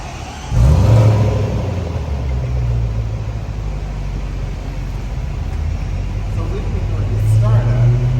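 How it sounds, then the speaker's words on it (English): A 2022 Range Rover Sport P525 Autobiography engine fires up with a sudden burst, then settles into a steady, deep rumbling idle of exhaust, swelling slightly toward the end. "I'm going to do just a startup for you again, and you can actually hear the exhaust."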